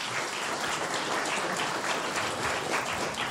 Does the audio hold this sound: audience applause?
yes